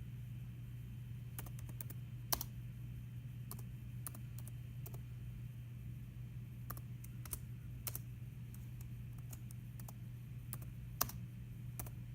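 Fingers type on a computer keyboard, producing quiet, irregular clusters of close key clicks with a few sharper taps, over a low steady room hum and no talking.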